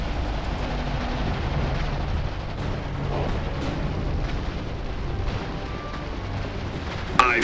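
Iron Harvest video game battle with gunfire and explosions: a dense, steady rumble of distant blasts and artillery-like booms runs throughout, ending in one sharper, louder burst.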